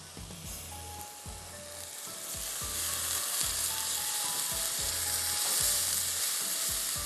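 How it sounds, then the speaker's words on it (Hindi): Minced meat with yogurt fries in a pan, hissing in a loud, steady sizzle that swells over several seconds, with repeated rhythmic scraping strokes of a spoon stirring it and no talking. "दही डाल के मैं ज़रा सा इसको भून के कवर करके छोड़ रही हूँ"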